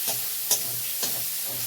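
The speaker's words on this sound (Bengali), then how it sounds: "এবার আমি সবগুলো মশলা একসঙ্গে ভালো করে কষিয়ে নেব" Spices sauteed together in a pan for a dahi bhindi dish, a soft steady sizzle broken by three or four short spatula scrapes at regular intervals, close and alone.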